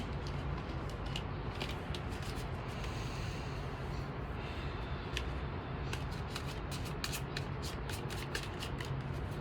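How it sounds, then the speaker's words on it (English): A Modern Witch Tarot card deck is shuffled by hand close up, giving continuous soft riffling and papery flicks with sharper clustered snaps, fairly quiet and without talk. "So I'm gonna shuffle my cards and I'm gonna pull some cards for us"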